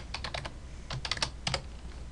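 Soft, quiet keystrokes on a computer keyboard come in short bursts, typing a brief word, with pauses between the groups of clicks.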